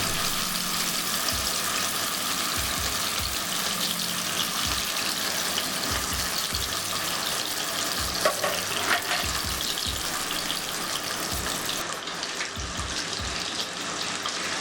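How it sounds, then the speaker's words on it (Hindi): Bata fish fries in hot oil in a pan with a loud, continuous sizzle and bubbling, with intermittent low thumps and brief clinks of handling throughout, close by. "तब एक एक करके फिश को फ्राई करने के लिए पैन में डाल दीजिए।"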